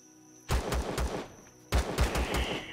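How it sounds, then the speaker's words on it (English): Gunfire from an old gun in the space survival video game Empyrion Galactic Survival: two bursts of rapid, loud shots, each a rattle of several reports, separated by a short pause, with no talk. "Okay, let's get the old gun."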